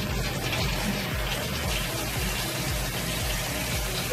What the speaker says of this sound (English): I'm gonna rinse his steak off.